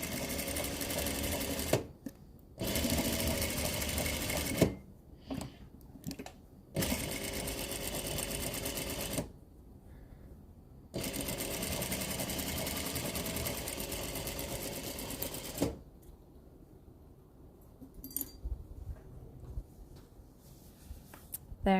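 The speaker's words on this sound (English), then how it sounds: "we'll zip that through the sewing machine" A sewing machine runs a quarter-inch seam through a pinned quilt star block, stitching in several short, steady whirring bursts of a few seconds each, separated by pauses. The machine sounds close but fairly quiet.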